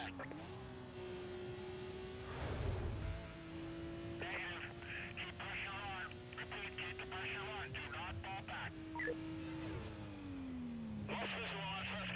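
Racing-game traffic in NFS Most Wanted: a steady droning car engine runs throughout while passing vehicles and bursts of road noise sweep in and out, with a muffled voice underneath.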